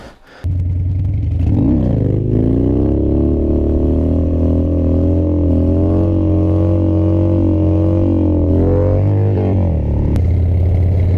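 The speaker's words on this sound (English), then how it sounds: "let's get our longest wheelie yet" A Harley-Davidson Sportster XR1200 motorcycle engine roars loud and close, holding a steady high rev for about ten seconds with a brief dip and swell near the end, as during a wheelie.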